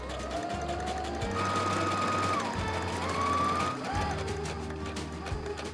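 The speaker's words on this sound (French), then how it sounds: "on coud à 1 cm du bord tout autour du cercle sans laisser d'ouverture cette fois-ci" Sewing machine stitching a seam one centimetre from the edge all the way around a fabric circle for a reusable food cover, a steady close motor whir running in bursts with brief pauses between runs.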